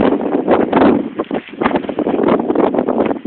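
Strong wind buffets the microphone beside a damaged car whose trunk won't close and is tied down with rope, a loud continuous roar with gusting surges and no talk.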